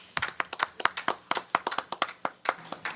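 Attendees at a board of trustees meeting clap in a brief round of applause, a close, moderately sparse patter of individual hand claps in quick irregular succession.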